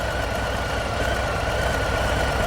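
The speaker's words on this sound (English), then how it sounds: "while your motorcycle's warming up in the garage or driveway" A motorcycle engine idles steadily while warming up in a garage or driveway, giving a continuous even rumble with a faint mechanical knocking texture and no talking.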